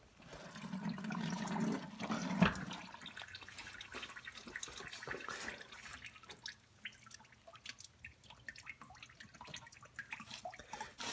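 Coolant from a 1996-2004 Mustang Cobra / Mach 1 4V DOHC engine, drained during a thermostat replacement, pours and then drips into a 5-gallon bucket: a steady stream at first, then scattered faint drips, close and quiet.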